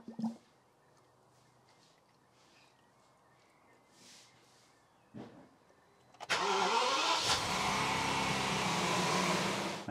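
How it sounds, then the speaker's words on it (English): A BMW engine cranks and catches after a quiet stretch with a few small clicks and knocks, then settles into a loud, steady idle with the power steering pump running, close up. "then fire up the engine"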